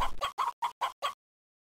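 Chickens cluck in the Egg Scramble video game, six short, evenly spaced clucks in quick succession, clear and isolated, followed by silence.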